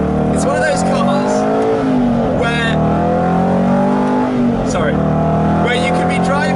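The Aston Martin GT8's engine drones loudly and continuously with a deep, sustained tone, while a person talks over it throughout.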